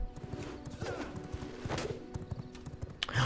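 Horse hooves clip-clop in a quick, steady rhythm from a ridden horse in the video game Control, moderately close and fairly quiet, with faint ambient game sounds around them.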